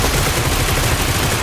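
Dense bursts of automatic gunfire in the mobile shooter game Battlegrounds Mobile India, fired from a Groza rifle, rapid and loud, packed tightly across a short stretch with no gaps.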